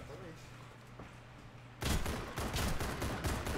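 After a quiet stretch, a sudden burst of rapid video game gunfire erupts and continues loudly in quick, overlapping shots until the end.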